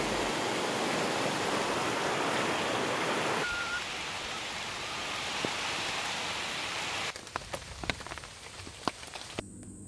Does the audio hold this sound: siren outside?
no